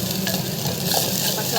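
Vegetables sizzle and fry steadily in a hot pan while being stirred for a Tamil-style sundakai vatha kuzhambu, with a constant close hiss and no talking.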